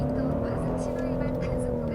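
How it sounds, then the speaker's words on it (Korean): A Genesis GV70 3.5T AWD sport package in comfort mode gives a steady, low engine hum as the accelerator is pressed lightly, the drone holding even throughout with a voice talking over it. "제가 여기에서 살짝만 가속 페달을 웅 하고 밟아볼게요."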